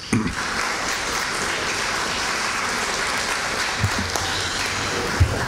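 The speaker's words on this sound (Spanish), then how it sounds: "a Santolaya, teniente alcalde de Miraflores, a quien pido recibamos con el aplauso de todos los presentes." A seated audience at a Miraflores municipal award ceremony for punctual residents applauds steadily, a broad, even wash of clapping that holds its level throughout, with a few louder claps standing out.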